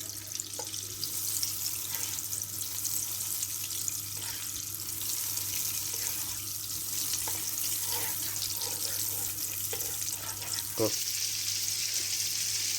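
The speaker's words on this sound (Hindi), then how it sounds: "आपको बटर को मेल्ट होने दें।" Butter melting in a cooking pan gives off a soft, steady sizzle and hiss throughout, with faint clinks from the kitchen.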